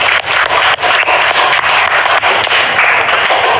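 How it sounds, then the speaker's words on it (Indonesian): A classroom of students bursts into loud, dense applause, many hands clapping together in a steady unbroken wash for a few seconds. "Kasih tepuk tangan."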